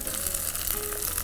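Onions and tomatoes sautéing in a pan with curry leaves: a short, steady frying sizzle with faint stirring, close and fairly soft, no talking.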